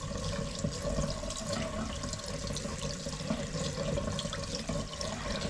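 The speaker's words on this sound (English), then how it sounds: "You just run it under the water and it cleans off your hands pretty well." Steady rush of tap water running into a sink while hands are rinsed under it during a bathroom vanity installation, a continuous close splashing wash with no talk.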